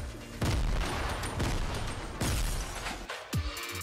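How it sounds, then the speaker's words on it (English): Grenade blasts in the Fortnite video game go off in a rapid string of loud booming bursts, four or five heavy hits spaced across the stretch with crackling debris between them and no talking. "Just spam those grenades and you will win eventually."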